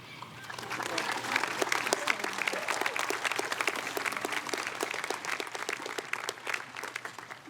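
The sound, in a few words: applause for graduation music programs, band and choir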